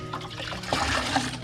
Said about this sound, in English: First I got to clean that water there and clean that sponge